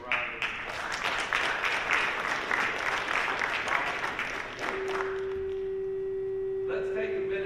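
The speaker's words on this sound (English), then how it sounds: "Let's give them a round of applause" A crowd gives a round of applause for a high school football team at a CHS Football Awards event, with dense, steady clapping for about four seconds that then cuts off. A steady electronic tone follows.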